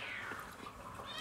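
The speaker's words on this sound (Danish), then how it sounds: "Hvis I kan høre noget meget miavne i baggrunden, så er det min kat." A domestic cat gives a single faint meow with a falling pitch, well in the background of a quiet indoor room.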